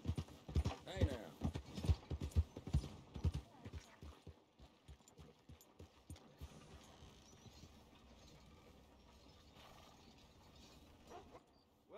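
Horse hooves clip-clop in Red Dead Redemption 2, a quick rhythmic run of loud steps that slows and fades within a few seconds, leaving quieter ambience with brief game dialogue nearby.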